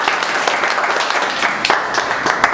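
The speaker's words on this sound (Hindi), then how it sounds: "टीम के लिए ताली।" Audience applause for a team at a Hindi poetry event, steady dense clapping from a crowd filling the room, loud and continuous with no break.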